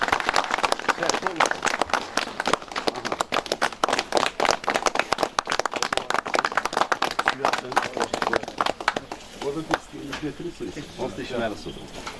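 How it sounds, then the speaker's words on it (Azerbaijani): An outdoor memorial crowd in Aghdam claps steadily and loudly for several seconds, a dense patter that thins toward the end, with a voice speaking over it. "Alqışlayaq, alqışlayaq."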